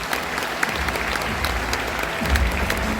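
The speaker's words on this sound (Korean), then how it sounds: "박수로 맞아주십시오." A large crowd claps continuously and loudly at the opening-eve ceremony of the Bucheon International Fantastic Film Festival, with a low rumble from the hall beneath the dense applause.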